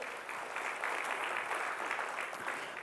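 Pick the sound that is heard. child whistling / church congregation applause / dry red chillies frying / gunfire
church congregation applause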